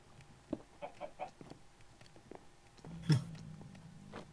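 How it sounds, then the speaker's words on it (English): A chicken in a Minecraft-style video game clucking while being killed, with several short clucks and soft thuds, then a louder squawk near the end. "I was killing the chicken."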